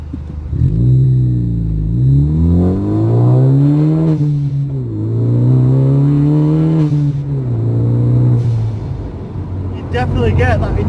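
A car fitted with a GFB blow-off valve accelerating hard through the gears on the road, loud and close, with engine pitch climbing and dropping at each of several shifts and a brief hissing burst near the end.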